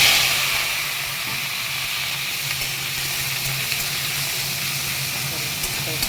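Capsicum sizzling in hot oil tempered with cardamom, cinnamon, cumin and bay leaves in a pan, a loud steady hiss that bursts up at first and then settles into a continuous close sizzle.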